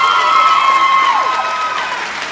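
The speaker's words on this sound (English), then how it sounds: "Now clap for yourselves because you did it." Graduating high school class at Mumford High School claps and cheers, a dense crowd of applause with shouts and whistles blending into a steady wash, with no clear speech over it.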